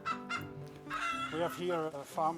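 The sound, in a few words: laying hens clucking on a Dutch chicken farm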